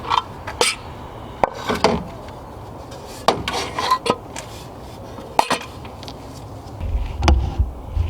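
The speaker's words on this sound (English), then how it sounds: "Wipe off the whole perimeter around these things so you know that the gasket is going to have a good seal" A rag or cloth is wiped and rubbed around the valve cover studs on a Lexus/Toyota 2JZ engine, giving soft scrubbing strokes broken by sharp metallic clicks and taps close by, with no talking.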